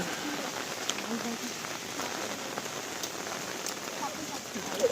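Steady rain patters down across an open village ground during a monsoon-season cricket match, a dense continuous hiss at moderate level with occasional faint voices in the background.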